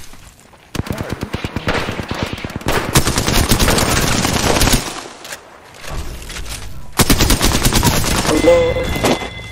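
Apex Legends gunfire in rapid automatic bursts, loud and close, with a long rattling volley, a pause, then another burst, and a brief voice partway through.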